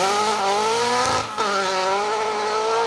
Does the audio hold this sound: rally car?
yes